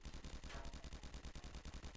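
Rapid automatic gunfire from a medic's weapon in the Roblox D-Day game, a fast, steady string of shots sounding faint and continuous.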